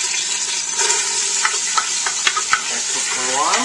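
Onion frying in olive oil in a big pot, a bright continuous sizzle with a few soft stirring knocks and scrapes, close and steady with no talk.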